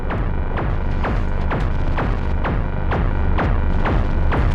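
Kick drum voice of a Neutral Labs Elmyra-2 synthesizer, a loud throbbing beat repeating about twice a second over a dense, droning low hum.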